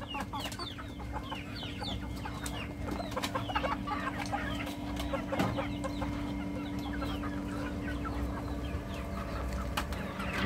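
Free-ranging chickens and fowl cluck and chatter steadily around a farmyard after being let out of their pen, with overlapping near and distant calls and an occasional crow, no talking.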